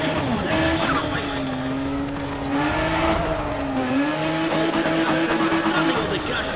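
A race car in Need for Speed ProStreet roars continuously, its engine note rising and falling through shifts while tires squeal, loud and steady, with a commentator talking over it.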